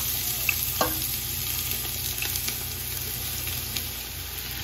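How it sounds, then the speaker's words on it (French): Onions frying in heated oil, a steady close sizzle with a clatter near the start as they go in, then a few faint ticks and scrapes over the hiss. "Ok, là, mon huile est chauffée. Je vais verser les oignons à l'intérieur."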